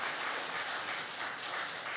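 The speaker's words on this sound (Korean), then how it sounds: "잠깐만 일어나 주시면 환영의 박수 한번 보내주시면 감사하겠습니다." A church congregation at a Sunday service applauds in welcome, a steady wash of many hands clapping without pause, moderately loud and filling the room.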